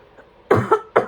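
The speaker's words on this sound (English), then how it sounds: "excuse me, I'm going to cough." A few sharp, close coughs in quick succession, three bursts after a brief quiet moment.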